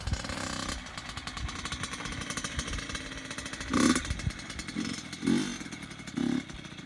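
A Yamaha YZ85 dirt bike engine drones steadily, then revs up in several short bursts, loud and close, with rough clattering mechanical texture.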